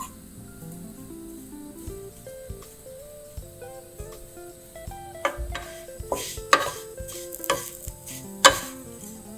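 Clams-in-XO-sauce ingredients stir-toasted in a dry pan, with intermittent scraping and clinking of a utensil against the pan and soft sizzle, growing busier and louder toward the end.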